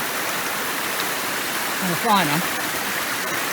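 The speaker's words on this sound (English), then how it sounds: "I'm basically walking straight up the rocky waterfall." Water pouring steadily down a rocky waterfall, a constant loud broadband rush throughout, with a brief spoken word partway through.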